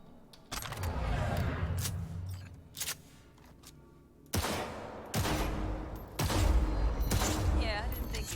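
Gunfire in Cyberpunk 2077 at a shooting range, with several separate bursts and single shots spaced a second or so apart, some sharp and close, with people talking faintly beneath.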